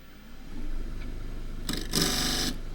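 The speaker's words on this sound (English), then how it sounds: "rough turning this with a 1/2 inch spindle gouge" A wood lathe rough turning a very dry Tasmanian eucalypt burl with a 1/2 inch spindle gouge around 1600 rpm, a low motor hum with a rubbing cut that swells into a bright, loud scraping burst.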